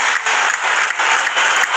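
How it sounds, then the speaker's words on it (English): A crowd at an NRL rugby league match, Manly Sea Eagles against the New Zealand Warriors, bursts into loud sustained applause and cheering, a dense wash of clapping that pulses slightly throughout. "There's a bit of a cheer from the crowd."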